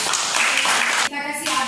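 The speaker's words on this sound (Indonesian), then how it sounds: "kita kasih aplaus" Classroom audience applause after a student group's woodcraft presentation in a craft and entrepreneurship lesson, a dense burst of clapping that fills the short clip with a brief dip near the end.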